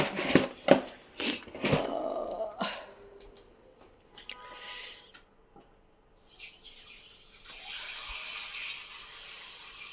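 Water runs and splashes during washing in a kitchen, with a few loud bursts at first, then a quieter gap, then a steady, even flow near the end.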